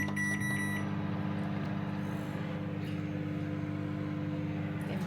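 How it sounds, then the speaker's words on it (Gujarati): A microwave oven hums steadily while reheating food, with a few short beeps at the start, a low constant drone close by and no speech. "ચાલો માઇક્રોમાં ગરમ કરી નાખીએ."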